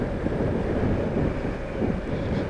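Steady, strong wind roaring across the microphone, a continuous low buffeting rumble with no pauses.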